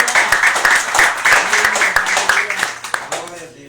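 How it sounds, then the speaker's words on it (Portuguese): Church congregation clapping during a worship service, a lively rhythmic patter of many hands mixed with a preacher's voice speaking over it. "as palmas glorificam Jesus"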